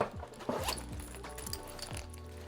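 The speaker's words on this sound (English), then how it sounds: "So let me zip this open." A zipper drawn open on a Tumi travel sling bag holding a Leica Q2 camera, heard as several short, quick rasping pulls in succession, close and fairly quiet.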